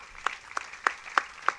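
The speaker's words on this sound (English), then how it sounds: "I think a big round of applause will do a justice to this" Five slow, evenly spaced handclaps ring out in a quiet hall at a yoga festival, each sharp and distinct with a short gap between them.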